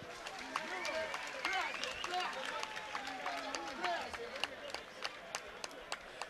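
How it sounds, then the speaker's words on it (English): Applause and cheering from a boxing crowd after a twelve-round bout, with scattered sharp claps and shouts over a steady crowd din and some voices talking. "we'll do one resounding round of applause for the two boxers"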